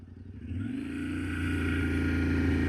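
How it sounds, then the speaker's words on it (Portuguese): A Yamaha Tenere 700 motorcycle launches hard toward 100 km/h, its engine drone rising steadily in pitch and loudness, close and continuous with no voices. "Agora aqui eu quero fazer uma arrancada já com o motor mais cheio, fazer um 0 a 100 aí numa tocada mais agressiva um pouco."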